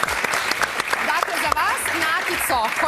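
A studio audience on a Valentine's Day TV magazine show claps for a woman contestant, brisk applause running under a presenter's speech throughout.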